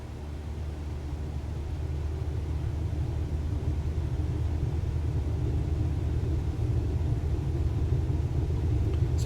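An aircraft engine spooling up for takeoff in Microsoft Flight Simulator, a steady low rumbling roar that slowly swells in loudness, heard alone without talk.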